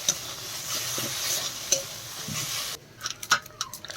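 A spoon stirs taro leaf curry in a pan, giving soft scraping and clicking strokes over a light sizzle, with a few sharper taps near the end.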